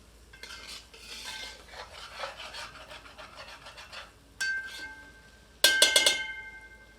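Cashew and melon seed paste being stirred with chicken in a pot for Mughlai korma, soft repeated scraping strokes of a spoon against the pot base, ending in a few sharper metallic clinks.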